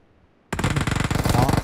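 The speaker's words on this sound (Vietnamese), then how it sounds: "Bắn Uzi." Uzi fire in PUBG Mobile: after a brief silence, a loud, rapid automatic burst of close-range shots rattles continuously to the end.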